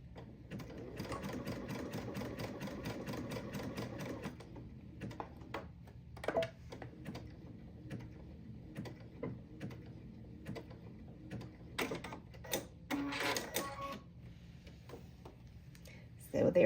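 A sewing machine stitches a zigzag on a cup cozy in an embroidery hoop, first a dense mechanical whir, then quieter irregular bursts of stitching and clicks as the fabric is adjusted.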